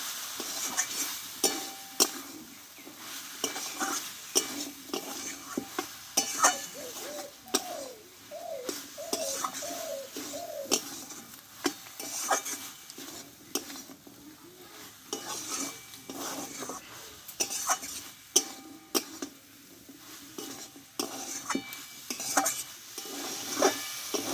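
A spoon stirs banana flower curry (mochar ghonto) with kabuli chickpeas and freshly grated coconut in a pan, scraping and clinking steadily over a soft sizzle, with faint birdsong in the background.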